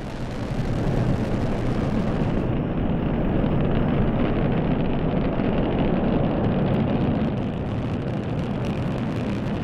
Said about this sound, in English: And liftoff at dawn, the dawn of Orion and a new era of American space exploration.